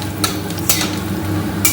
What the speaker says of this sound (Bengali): তেল গরম হলে আমি এখানে ফোড়নে দেওয়ার জন্য রেখেছি তেজপাতা, শুকনো লঙ্কা, গোটা গরম মশলা আর গোটা জিরে। এটাকে কয়েকটা সেকেন্ড ভেজে নেব।